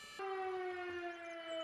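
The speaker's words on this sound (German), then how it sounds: "Oh, jetzt auch schon die Sirene bei deiner Feuerwehr." A fire department siren in the video game Emergency starts abruptly and holds a steady, piercing wail, fairly loud and alone for under two seconds.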